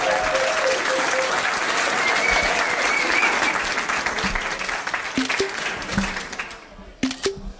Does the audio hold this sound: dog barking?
no